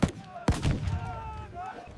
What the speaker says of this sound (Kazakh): Қараңдар, шамадан тық жақын жарылыстар.